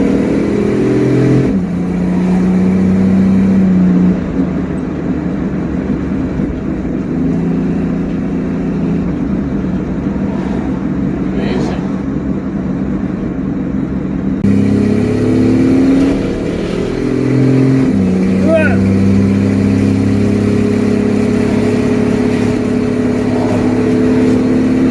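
Car engine with a new carburetor accelerating while driving, loud cabin drone that rises and shifts in pitch with gear changes, steady rumble running throughout.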